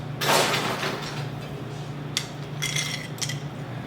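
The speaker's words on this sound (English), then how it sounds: "I top with a little bit more ice" Ice cubes drop and clink into a cocktail glass at a bistro bar, a few sharp glassy rattles in quick bursts with short pauses between them, close and clear over a low steady hum.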